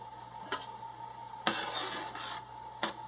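A spoon whipping creamed corn in a pot as it cooks, with three distinct scraping strokes against a faint steady hum, close and fairly quiet with no talk.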